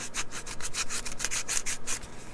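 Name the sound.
sanding with a sanding stick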